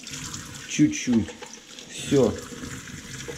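Warm water runs from a household tap while washing a bicycle chain, a steady splashing stream under brief spoken words.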